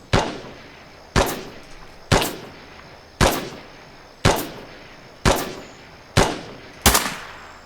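Eight loud, sharp gunshots fired by an enemy shooter ring out at a steady pace of roughly one per second, each report followed by a short decaying echo across open ground, with no voices.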